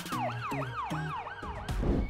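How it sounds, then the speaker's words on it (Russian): A police siren mounted on the trunk of a toy car for LOL Surprise OMG dolls wails in rapid repeating up-down sweeps, steady and fairly close, ending in a burst of noise. "а на багажнике установлена полицейская сирена"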